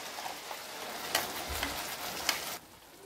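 A paste of tomato, cashew and onion sizzles in butter in a pan with green chillies, a soft steady crackle with a few stirring scrapes, quiet and close before the sizzling drops away.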